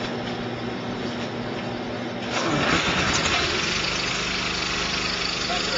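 A V-Tex hose system machine running under its own power to pull out its hose, a steady broadband engine-like drone that grows louder partway through and continues at a constant level.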